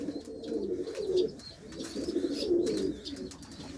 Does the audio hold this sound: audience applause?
no